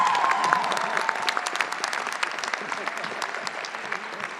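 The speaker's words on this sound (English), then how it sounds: "Please join me in one more round of applause for Dean Ouellette" Steady applause from a large crowd at a law school commencement fills the room, a dense continuous patter of clapping with a faint tone briefly at the start.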